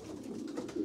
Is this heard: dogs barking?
no